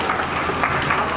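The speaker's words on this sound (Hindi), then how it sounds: "जोरदार तालियों से अभिनंदन" A crowd of devotees claps at a Shrimad Bhagavat Katha religious discourse at Bhawani temple in Cheeka: dense, continuous loud applause, with no pause throughout.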